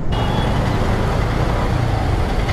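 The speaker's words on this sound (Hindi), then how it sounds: "सामने भी इतना ट्रैफिक है," Steady road traffic with trucks and cars near Bangalore, a continuous loud rumble of engines and tyres with no pauses, heard from inside a moving vehicle.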